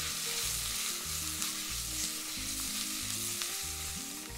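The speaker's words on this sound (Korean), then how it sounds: "자, 이제 볶아주세요." Button mushrooms and onions stir-fry in a stainless steel pan, giving a continuous close sizzle with repeated low scraping strokes of stirring, and no voices.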